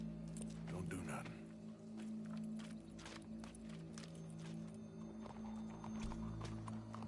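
Horse hooves clip-clopping at a steady walking rhythm in the Western game Red Dead Redemption 2, moderately close, over a low hum and background game ambience.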